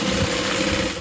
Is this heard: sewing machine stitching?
yes